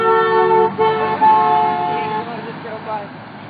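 Car horns honk repeatedly along a busy street during a protest march, sustained tones overlapping and fading in and out against crowd noise and traffic, fairly loud and close.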